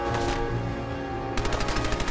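Rapid bursts of gunfire from a video game set in a wasteland, several sharp shots in quick succession, loud and close with no talking.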